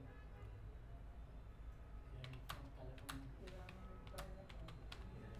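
Keys on a computer keyboard tap in a quick, irregular burst, faint and close, over a low steady hum.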